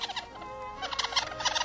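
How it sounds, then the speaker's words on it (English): A young seagull calling in a radio drama, a rapid series of short, high, chirping squawks in quick bursts, close and fairly loud with no talk over it. "It's a young seagull."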